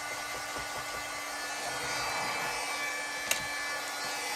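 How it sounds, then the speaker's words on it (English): Heat tool blowing hot air to dry embossing powder, a continuous even whirring hiss held steady throughout, close and fairly quiet, with a single small click near the end. "So I'm going to bring in the heat tool."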